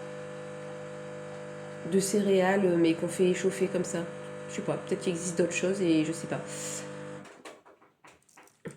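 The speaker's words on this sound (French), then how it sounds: "derrière, c'était le bruit de la cafetière" A home coffee maker brewing gives a steady electric hum under someone talking in French, then cuts off abruptly near the end, leaving faint rustles.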